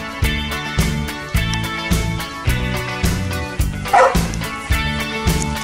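Dogs working on a 2017 goat cull bark and yip repeatedly in short, loud bursts over a steady loud background that might be music.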